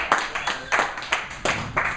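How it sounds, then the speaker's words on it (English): A small audience claps at a poetry open mic at Austin Salon Poetic, with sparse, distinct handclaps in an uneven rhythm, fairly close and moderately loud. "Let's have another round of applause for Scott Vanya"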